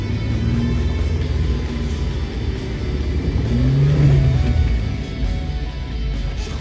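An off-road vehicle's engine revs and labors in four-wheel drive through soft sand on a desert trail in Arizona, a close continuous rumble that swells in the middle and eases off, with no talk.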